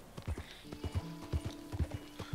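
Horse hooves clip-clopping in the video game Red Dead Redemption 2, a quick, evenly paced run of close, crisp hoofbeats with a faint tonal sound under the steps.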